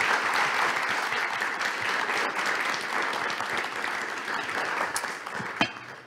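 Audience applause at a youth politics conference discussion in Latvia, dense sustained clapping from a full room, easing slightly near the end.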